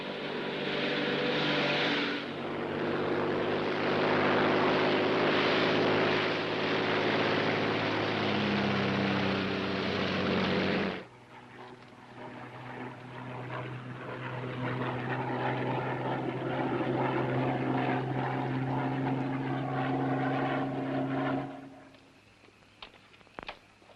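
Propeller engine of a Royal Air Force airplane, a loud steady droning hum that holds for about ten seconds, then drops to a lower, muffled interior drone before fading out.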